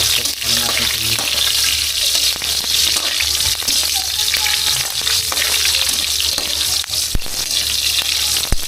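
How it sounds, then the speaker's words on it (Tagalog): Lomi noodles frying in a pan, a loud, steady hiss and crackle of hot oil that fills the whole stretch with constant sizzling and no pause. "First time kong magluto ng lomi."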